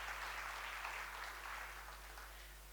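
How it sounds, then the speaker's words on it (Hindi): Conference audience at a Rotary District 3030 event applauding steadily for nearly three seconds, a broad, even wash of many hands clapping at moderate distance with a low steady hum beneath and no talk. "मुझे लगता है इस बात पे तो महिलाओं को जोरदार ताली बजानी चाहिए, नहीं?"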